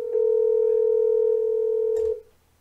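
A steady, loud, pure telephone tone from a Grandstream IP phone at factory default volume after dialing an extension, holding for about two seconds before a click cuts it off.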